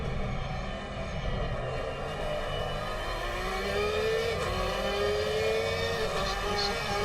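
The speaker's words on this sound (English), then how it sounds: "Just listen to that Porsche." A Porsche race car engine in a sim racing video game drones loudly and steadily, its pitch rising gradually as it revs and accelerates, with no talking.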